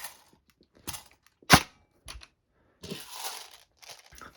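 An airsoft M4 fed from a Specna Arms original high-cap magazine fires a few sharp, close single shots separated by quiet gaps, along with small rattling handling noises.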